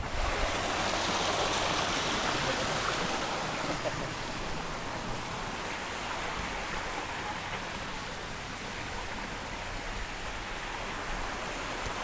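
Water cascading down a water feature at a cafe with a koi pond, a constant broad rushing flow that stays steady and fairly loud throughout with no break.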